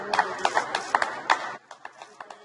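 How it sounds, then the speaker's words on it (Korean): A crowd in London claps and cheers to thank medical staff during the coronavirus outbreak, with sharp irregular claps over a steady wash of noise that drops to sparser, fainter claps near the end. "의료진에게 박수로 고마움을 표시하는 행사에 동참한 겁니다"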